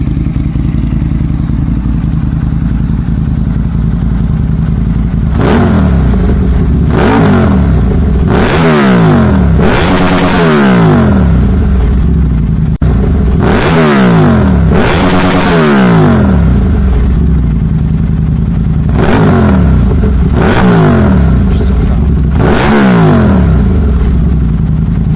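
A motorcycle fitted with a Delkevic exhaust revs hard again and again, loud and close, each throttle blip rising and falling in pitch over a steady rumbling idle, with no talking.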